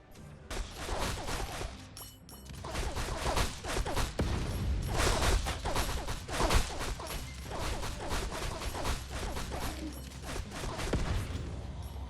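Shotgun blasts in the video game R.I.P. Reincarnation Insurance Program come as a dense, loud, continuous volley of booming shots and crashing impacts, layered with swishes and mechanical clatter, with no break for the full length.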